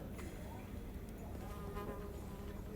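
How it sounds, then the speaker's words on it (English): Faint buzzing of a bee swarm in the video game Shadows Over Loathing, a steady insect drone that is quiet and continuous throughout. "It's, a swarm of bees."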